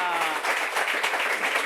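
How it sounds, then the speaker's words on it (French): A studio audience claps at the close of a French TV talk show, with a steady, fairly loud wash of hands and a voice talking faintly underneath. "On peut s'applaudir une dernière fois."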